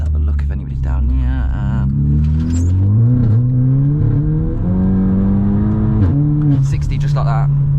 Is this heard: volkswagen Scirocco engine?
yes